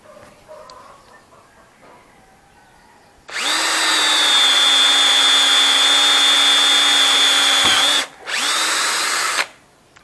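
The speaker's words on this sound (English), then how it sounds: "It quickly drilled the hole into the wood using the drill settings and the speed control number 2." A Bosch GSR 180-LI cordless drill whirs loudly at a steady high pitch for several seconds, on speed setting 2, drilling into wood, cuts out briefly, then spins up again before stopping.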